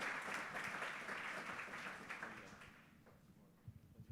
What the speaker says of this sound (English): Perhaps I'd like to give our panelists a round of applause.